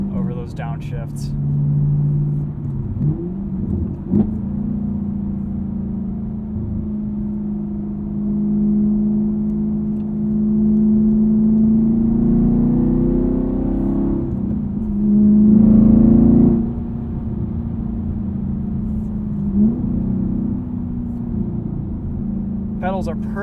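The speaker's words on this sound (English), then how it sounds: "Let's turn off rev matching and have our own control over those downshifts." A manual car with rev matching switched off is downshifted by hand. The engine drones and rises in repeated revving swells with a brief louder blip, and someone talks over it.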